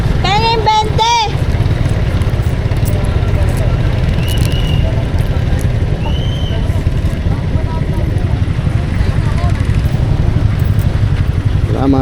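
A motorcycle idling and running at a campsite entrance in Norzagaray, Bulacan, a steady loud low engine drone throughout, with brief voices and chirps over it.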